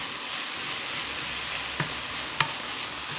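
Scrambled eggs fry in a pan with a steady close sizzle and hiss, broken by two brief scraping clicks of the pan being stirred, with no talking.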